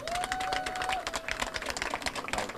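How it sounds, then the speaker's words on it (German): Audience applause at a handball fan talk event, a steady patter of clapping hands with a faint whistle-like tone running through it, moderately quiet and continuous. "kriegt nochmal einen riesen Applaus"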